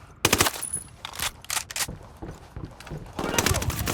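Rapid automatic gunfire from a Ghost Recon Wildlands firefight crackles in several loud, dense bursts with short gaps between them. A voice briefly talks over part of the shooting.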